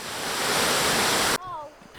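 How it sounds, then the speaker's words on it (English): A waterfall on the Four Waterfalls Walk in Wales roars as a loud, steady rush of white noise, then cuts off abruptly to quieter ambience with a brief tonal whistle. "we have lots of waterfalls"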